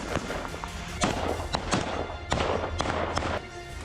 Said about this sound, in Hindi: उसके बाद ताबड़तोड़ फायरिंग की गई।